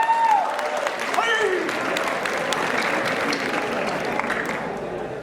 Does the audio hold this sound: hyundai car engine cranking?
no